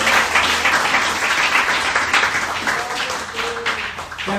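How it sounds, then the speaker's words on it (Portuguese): A congregation at a Brazilian evangelical church service applauds in praise, with loud, close clapping that tapers slightly toward the end as a few voices come through. "Uma salva de palmas ao Senhor."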